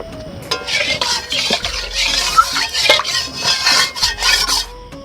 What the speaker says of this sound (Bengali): তাই এখন আমি কড়াটা ভালো করে ধুয়ে নিচ্ছি